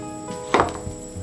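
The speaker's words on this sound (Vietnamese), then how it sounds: "Tiếp theo tôi sẽ cắt xoài." A knife slices through a mango on a cutting board in a kitchen, one crisp chopping thud followed by a softer tap, faint and close against a low steady hum.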